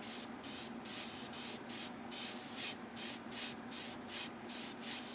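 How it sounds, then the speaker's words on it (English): Light short bursts from a spray can laying skin tones onto the face of a 3D printed Willy Wonka figure at about 1.5 feet, roughly a dozen quick hissing puffs in an uneven rhythm. "I'm going to spray very lightly"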